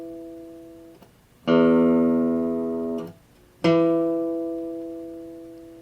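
Two plucked guitar notes, both E an octave apart, ring out one after another, the second distinctly higher in pitch, each sustaining and slowly fading.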